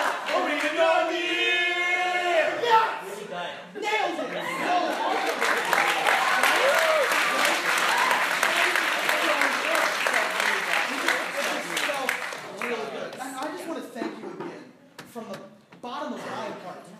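An audience breaks into loud, sustained applause with scattered cheers, following a voice at the start and tapering off into fading claps near the end.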